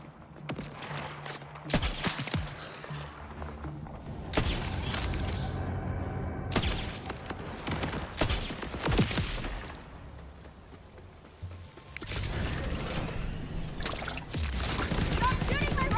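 Rapid bursts of gunfire crackle in Borderlands 4, sharp repeated shots and sprays arriving in clusters with brief lulls between them, loud and close, mixed with other game effects.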